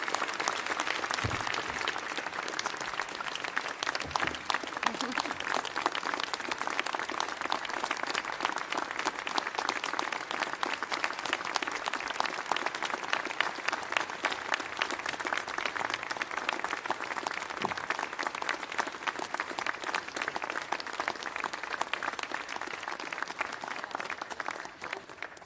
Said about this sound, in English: Let's give one more round of applause for our 16th president.